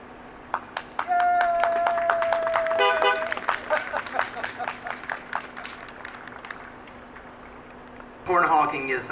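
Applause and car horns at an outdoor drive-in high school commencement, with a sustained horn tone and irregular clapping rising together, then bursts of clapping, and another loud cluster of honks near the end, moderately close.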